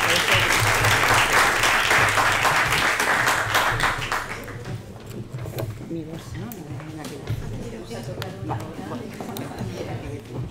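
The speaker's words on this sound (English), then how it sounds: "a big round of applause again to this panel" Conference audience at a digital cities seminar in Algeciras giving a panel a big round of applause, loud and dense at first, then thinning to scattered claps with some background voices.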